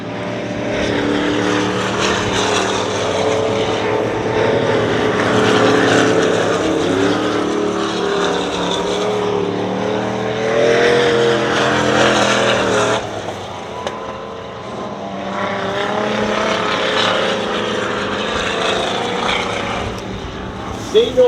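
Dirt track race cars circling Dirtona Raceway in single file, a loud continuous engine roar that swells and fades as cars pass, close and dominant throughout.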